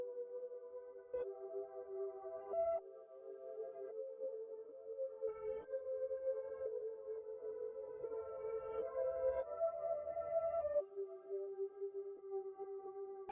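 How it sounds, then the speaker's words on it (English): A reversed piano melody, each note swelling up and cutting off abruptly, chords shifting every couple of seconds in a steady, mellow, moderately quiet line. "Then next I did another reverse piano melody that sounds like this."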